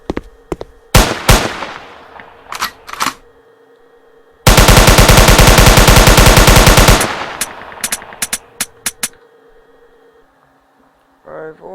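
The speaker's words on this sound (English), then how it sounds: "I've also added in my weapon fire" Weapon fire sound effect from a Unity video game: scattered single shots, then a loud, sustained burst of rapid automatic fire lasting a couple of seconds, followed by more isolated shots.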